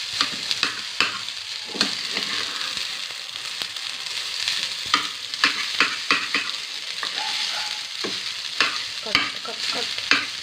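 Egg rice frying in a pan and being stirred, a steady sizzle broken by frequent scraping spoon strokes, close and fairly loud with no talking.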